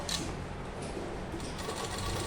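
A sewing machine runs steadily while stitching a double-folded pant hem, with an even, continuous whir close to the microphone and no talk over it.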